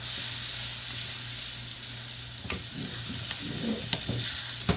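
Mutton mince for Shinwari keema karahi fries with green chillies in a karahi, giving a dense, steady sizzle close up, broken later by a few scraping stirs and small pops, with nobody speaking.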